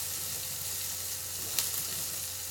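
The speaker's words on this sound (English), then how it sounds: "So our mushrooms have been sauteing for a few minutes now" Mushrooms sautéing in a pan give a steady, even sizzle with a faint hum underneath and one brief sharper crackle partway through; no one speaks.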